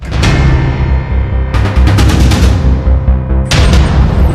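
Sustained bursts of automatic gunfire from Taliban fighters in Kabul, loud and close, coming in three rapid volleys separated by brief pauses, with no voices.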